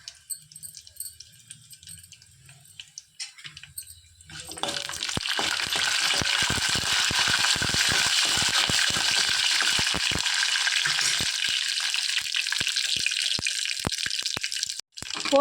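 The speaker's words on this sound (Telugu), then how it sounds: "ఆయిల్ వేడైనాక జీలకర్ర కొంచెం వేసుకోవాలి. ఆవాలు, మినప్పప్పు, ఏడుశనగ గుండ్లు." Cumin, mustard seeds, urad dal and chana dal hitting hot oil for village-style Bombay rava upma set off a loud, steady sizzle with crackling pops that runs continuously for about ten seconds after a quiet start.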